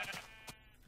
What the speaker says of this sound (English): Oh, get out of my way, you stupid sheep.